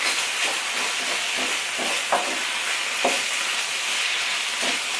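Beef and garlic hiss steadily in a hot skillet with a strong, even sizzle while a utensil scrapes through it in several spaced strokes, close and loud, with no one talking.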